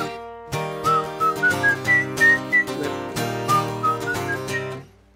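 A whistled melody from a song, with clear pitched notes in a rising and falling tune over sustained musical accompaniment that fades out at the end.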